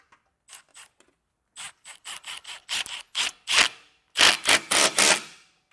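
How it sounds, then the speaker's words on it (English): Hand ratchet socket clicking as base plate hardware is snugged down on a 2021 Jeep Grand Cherokee, with short bursts of crisp ratcheting clicks that grow louder and more rapid, close up. "Now I'll just come back through and snug down all of my hardware."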